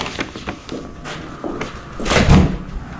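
A door shuts with a dull thump amid scattered knocks and movement at a truck delivery stop, fairly loud and close, with no speech.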